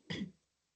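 A single short, faint cough, brief and isolated against near silence.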